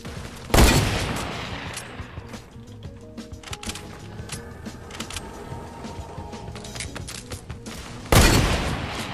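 Gunfire in the Fortnite battle royale game: two loud, sharp bursts of shots open and close the stretch, with scattered lighter clicks and mechanical game sounds in between and no talking.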